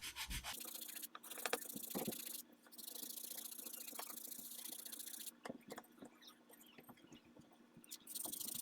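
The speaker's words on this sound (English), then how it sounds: "I'll shape it now with the sanding block." Steady back-and-forth rasping of a sanding block shaping a wooden rifle stock, close up, in long continuous strokes with a few short pauses.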